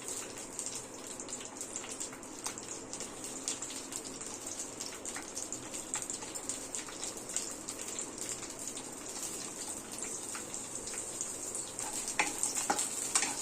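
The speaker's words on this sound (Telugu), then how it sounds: "నేను పచ్చిమిర్చి ఇలా తుంచి వేస్తానండి, ఎందుకంటే అవి వేగేటప్పుడు చింది మన మీద పడతాయి కదా" Green chillies fry in hot oil in a home kitchen pan, a steady quiet sizzle and crackle with scattered pops, continuous and fairly faint throughout.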